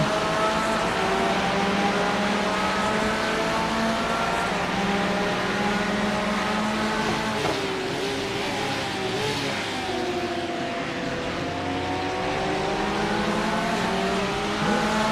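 GT3 race cars roar in a racing video game, a steady loud engine drone with rising and falling pitch as gears shift, several cars running together, continuous throughout without talk.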